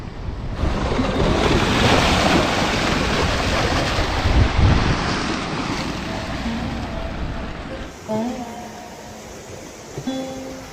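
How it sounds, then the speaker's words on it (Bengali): Ocean surf roars steadily with strong wind buffeting the microphone at dawn on the beach of Mousuni Island, loud and continuous, easing slightly near the end where faint tonal sounds appear. "সুন্দর হাওয়া ঢেউয়ের গর্জন"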